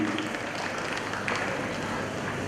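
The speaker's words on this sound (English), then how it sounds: "we can have a loud applause for Mrs." Steady, dense applause from the audience at a kindergarten annual day celebration, a continuous wash of many hands clapping at moderate distance with no pauses.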